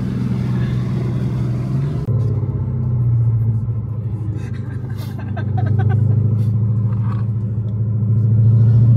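A powerful car with too much power for its wheels gives a loud, continuous low rumble that swells and eases, heard close up with the wheels spinning in every gear.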